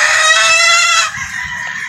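A sweater gamefowl rooster on a Batangas game farm lets out one loud, close crow that trails off after about a second into faint clucking.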